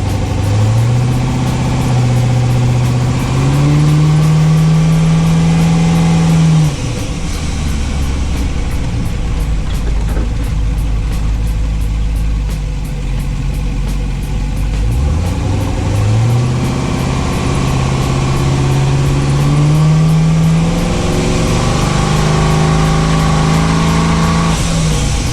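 A turbocharged car engine on the Twinnebago revs hard in two long rising pulls, loud and close, with a dip to a lower rumble between them.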